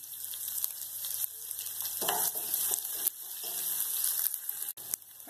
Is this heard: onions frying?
yes